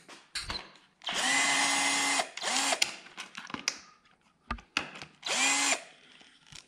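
Power drill driver removing the tank side screws on a Yamaha Super Ténéré 1200 motorcycle, with three loud whirring runs of a second or so each, separated by clicks and light handling noises.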